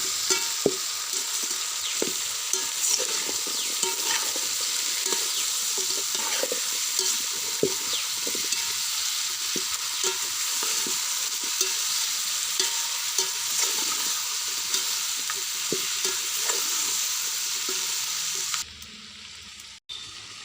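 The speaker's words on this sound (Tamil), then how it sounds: "பலாக்காய் வதங்கிட்டுருக்கிறப்பவே இருக்கிறப்பவே பலாக்காய்க்கு தேவையான உப்பை சேர்த்து வதக்கி விட்டுக்கலாம்" Jackfruit sautéing in a pan for jackfruit biryani, giving a steady loud sizzle with frequent stirring scrapes throughout, then a sudden drop near the end.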